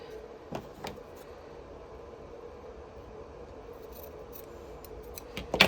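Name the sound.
scissors trimming fabric fringe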